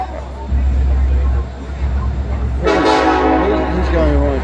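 A train of at least 2,300 horsepower rolls past at 2 am, a heavy low rumble running throughout, then a loud sustained horn blast partway through, with voices and background chatter mixed in.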